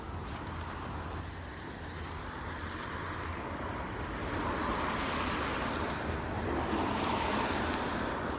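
Waves wash onto a beach in a steady, soft roar of surf, with wind buffeting the microphone and the sound swelling slightly later on.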